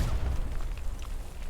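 Heavy low boom rumbling through a Hell Let Loose match on Utah Beach, a deep sustained explosion with a rolling tail that fills the short moment without any talk.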